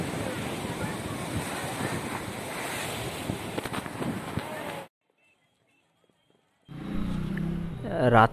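Ocean waves wash onto Digha sea beach in a continuous broadband rush with wind buffeting the microphone, then cut to near silence for two seconds before the surf and wind return with faint distant voices.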